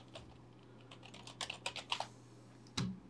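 Typing text on a computer keyboard during an Adobe Illustrator session: a soft, quiet run of key taps building into a brief cluster, then one firmer clack near the end, alone over faint room hum.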